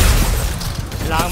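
Gunfire in the battle royale game Fortnite: loud, dense bursts of shots rattle continuously over a short span, with a voice talking over the action.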